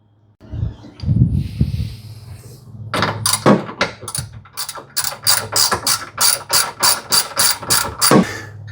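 Ratchet loosening a large bolt on a 2024 Toyota Tacoma tie-down rail: a few heavy clunks, then a close, rhythmic series of sharp clicking ratchet strokes.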